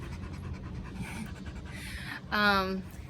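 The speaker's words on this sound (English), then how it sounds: "I really enjoy walking my dog. Here he is." A dog pants rhythmically while out on a walk, quick breathy huffs close to the microphone that grow louder near the end, with a person talking over it.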